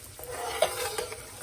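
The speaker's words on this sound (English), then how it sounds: "we're just gonna saute this a little bit" Garlic sautés briefly in a pan, giving a soft close sizzle with a quick clink of a utensil against the pan and a light stir, no voices.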